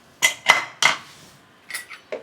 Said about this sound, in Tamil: மூடி ஓப்பன் பண்ணிக்கலாம்.